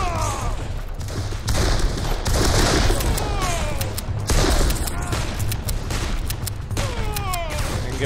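Massed Henry rifle fire in a Civil War battle game set at Burnside's Bridge, Antietam, with dense overlapping gunshots and rolling volleys, plus whistling ricochet-like streaks, loud and continuous.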